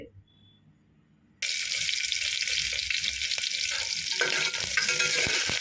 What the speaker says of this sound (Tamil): இப்போ வந்து கொஞ்சமாக எண்ணெய் போட்டு அதில் வெங்காயம் பச்சை மிளகா தக்காளி பூண்டு எல்லாம் வதக்கிட்டு